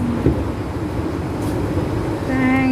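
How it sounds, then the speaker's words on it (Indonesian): A train rolls along the tracks with a steady low rumble and rhythmic clatter of wheels. A brief tonal squeal rises near the end, and the whole passage sounds close and moderately loud. "Naik kereta jalanan pulang."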